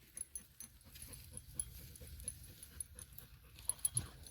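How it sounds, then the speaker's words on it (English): A dog pants in quick, uneven breaths close by, with soft snuffling and a few whimpery sounds over low background rumble. "if you guys can hear over the panting dog"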